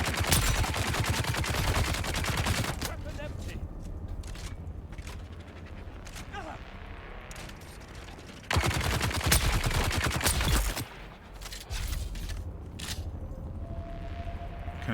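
Enemy gunfire in the Dune: Awakening game, rapid loud bursts of shots with quieter gaps between them and mechanical clicks, heard mostly alone.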